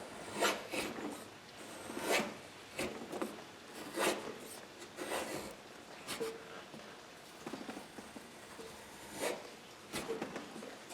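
Hand tool carving wood for a bear claw necklace, a slightly dull blade shaving chips off in repeated close rasping strokes at a steady rhythm, with no talk.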